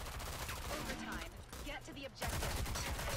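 Rapid gunfire bursts in the online shooter video game Rogue Company, loud and dense throughout, with a brief lull midway before heavier shots resume, mixed with excited talk.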